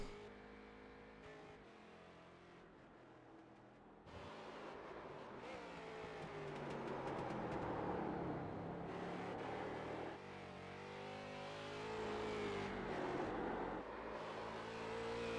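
Street stock race cars getting up to speed at the Charlotte Roval, with engines droning and rising in pitch as they accelerate. The cars pass at a moderate distance and swell louder after a few seconds.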